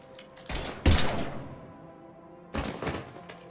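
Gunfire in the video game Mass Effect 3, with two loud blasts close together near the start and another burst later, each trailing off into a booming echo.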